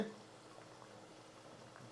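Soft, steady bubbling of thick chicken thokku simmering in a pan, low and continuous with faint pops, close by and without talk.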